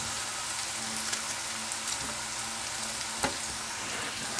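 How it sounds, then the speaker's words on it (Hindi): Onions frying in a pan for a curry gravy give a steady, dense crackling sizzle with small pops throughout, close and fairly loud, with no voices. "जब तक हमारा प्याज भुन रहा है"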